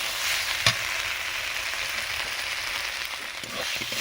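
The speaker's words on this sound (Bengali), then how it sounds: "হলুদ গুঁড়ো দিয়ে ভালো করে মশলাটা ভেজে নেব।" Spices with turmeric powder fry in a pan for a Bengali hilsa curry, hissing in a continuous close sizzle with a sharp clink of a utensil early on and light stirring scrapes.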